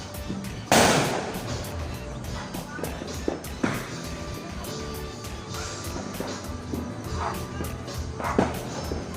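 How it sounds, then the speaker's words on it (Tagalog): Scattered New Year's firecrackers pop and bang sharply at irregular intervals, some near and loud, others farther off, with dogs barking amid the noise. "Maraming nagpapaputok ngayon. Naririnig natin ang paputok."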